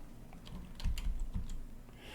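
Typing on a computer keyboard, a short burst of close, soft key taps at a quick uneven rhythm against a quiet room background.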